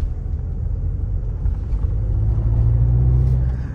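Tata Safari turbo petrol engine pulling under acceleration, a steady low rumble swelling louder toward the end with a faint rising tone above it, heard from inside the car with no talk.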